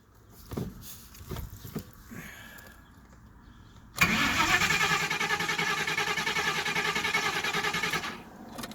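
A lean-running car engine cranks and catches, settling into a steady loud idle after a few seconds of quiet clicks and fumbling.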